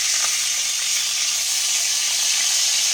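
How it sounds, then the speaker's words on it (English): A shoulder roast sears in a hot pan, making a steady, close, even sizzle and hiss of fat that runs without a break and without voices. "I'm going to lay it back down and let's sear this other side."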